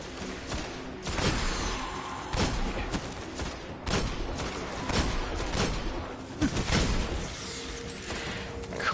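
Hand cannon fire in the video game Destiny, a series of heavy, punchy shots recurring irregularly over dense, busy game combat noise with thumps and scattered ambient sounds throughout.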